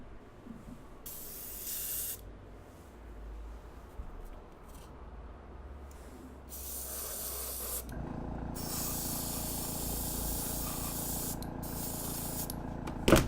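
An aerosol can sprays clear red paint over a custom Iron Man toy, giving a close, steady hiss that starts in short bursts and then holds as one long continuous spray.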